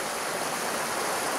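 A stream flows behind a rainy woodland campsite, giving a steady, unbroken rushing wash with no voices.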